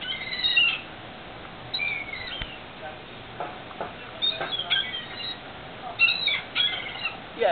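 Birds chirp and call around the deck of the Carnival Imagination cruise ship at sunrise, with scattered short tweets and squeaks coming close and frequent against a quiet background.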